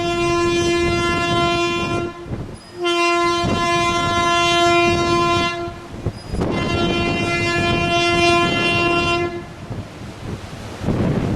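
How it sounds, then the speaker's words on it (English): A pilot boat departing near Bayonne, New Jersey sounds its horn in three long, loud, rich blasts, each lasting a few seconds with brief gaps between them. "the pilot boat did sound its horn several times as it departed"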